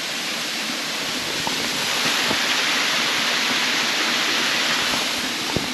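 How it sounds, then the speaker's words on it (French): A huge waterfall in an old-growth African forest pours with a steady, dense, loud rushing roar, unbroken throughout with only faint ticks and splashes. "Il y a beaucoup d'énormes cascades comme ça sur le chemin."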